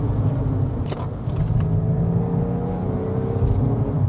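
A Porsche 996 Carrera 911 with its rear-mounted engine being driven, heard from inside as a steady low engine drone with whirring tones and slight pitch shifts, continuous and fairly loud throughout.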